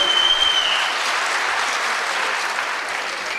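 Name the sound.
audience applauding at awards ceremony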